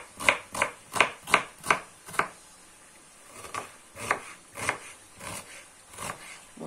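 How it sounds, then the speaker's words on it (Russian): Knife chopping carrots on a board: a quick run of six sharp cuts, a short pause, then slower, softer cuts continuing at close range. "Морковку тут эти брусочками нарезаю"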